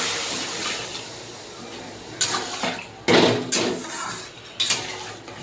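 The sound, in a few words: water poured into cooking spice paste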